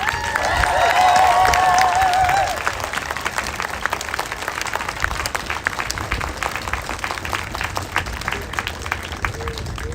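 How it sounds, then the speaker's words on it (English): Audience applause at the Trans Unity Rally at the U.S. Capitol: sustained outdoor clapping from a crowd with cheering and a whistle early on, loudest at first and then settling into steady applause for the rest. "let's give them a double round of applause"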